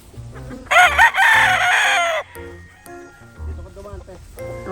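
A rooster crows loudly and close by, followed by scattered clucks and chicken calls with a voice speaking briefly in between.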